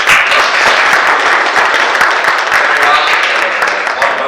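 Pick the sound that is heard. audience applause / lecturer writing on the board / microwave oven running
audience applause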